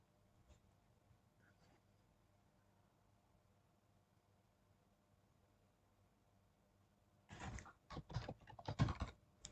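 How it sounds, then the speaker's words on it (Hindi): Quiet, close clicking of a computer keyboard starts near the end after several seconds of near silence, a short cluster of rapid keystrokes. "यहाँ पे फायरवॉल टाइप करते हैं"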